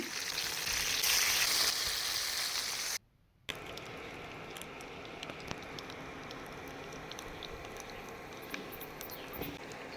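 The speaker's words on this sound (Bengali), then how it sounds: "মাছের একটা পিঠ ভাজা হয়ে গেলে অপর পিঠটা ভেজে নিচ্ছি" Payra river fish turned over to fry the other side in mustard oil in a wok outdoors, a bright hiss that stops, then a quieter crackle with scattered pops.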